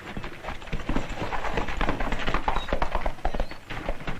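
Horse hooves clip-clopping in a 1940 western film scene, a dense fast run of near hoofbeats that keeps up steadily throughout without any talk.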